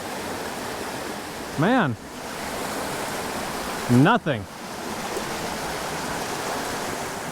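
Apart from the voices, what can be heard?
flowing creek water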